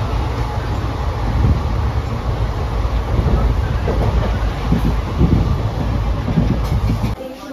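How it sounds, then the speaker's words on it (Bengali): Aranyak Express pulling out of Kharagpur station, rolling steadily on the rails with a constant low rumble and faint clatter close by, the rumble dropping off sharply at the very end. "আর আমাদের ট্রেন ছেড়ে দিল খড়গপুর স্টেশন।"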